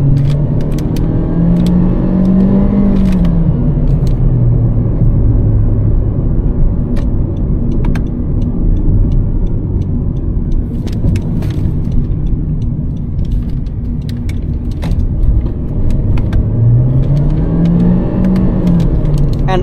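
A 2017 Honda Civic turbo engine revs up through the gears, the pitch climbing and dropping with each shift, heard loud and close from inside the car with no talking.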